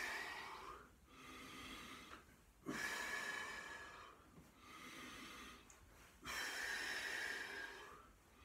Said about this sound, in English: again, I'm overemphasising the breathing.